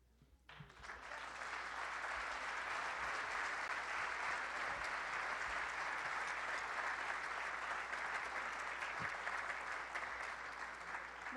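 Sustained, dense applause from an audience at a civic report presentation in Juárez, 2014, swelling quickly after a brief quiet start and holding steady at full strength for about ten seconds.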